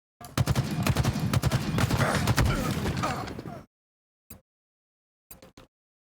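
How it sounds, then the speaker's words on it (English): Gunfire in a Halo Infinite 4v4 match against bots, heard as a dense, loud burst of rapid automatic shots for several seconds, followed by silence broken by a few short, isolated bursts. "I am already being shot at, my goodness"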